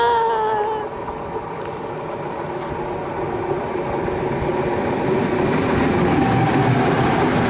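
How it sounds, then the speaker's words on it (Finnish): A train rumbles past close by, loud and continuous, with rattling wheels and a rising metallic whine as it goes. "Juna!"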